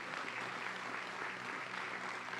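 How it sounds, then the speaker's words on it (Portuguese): A church congregation breaks into steady, dense applause, a continuous even wash of clapping at moderate distance with no breaks. "Você não vai aplaudir a Deus, não?"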